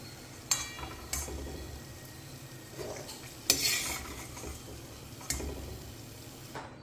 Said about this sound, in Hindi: अब इसमें हम काजू भूनेंगे।